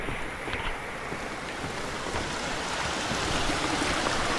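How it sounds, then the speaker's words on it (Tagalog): Tarimis Falls in Rodriguez, Rizal, heard as a steady broadband rush of falling water, fairly near and constant, with some wind on the microphone and no speech. "So ayun yung waterfalls."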